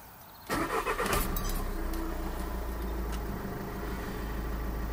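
Audi A3 engine starting after a secondary water pump connection was cleaned: a short cranking burst then a steady close idle that settles and holds.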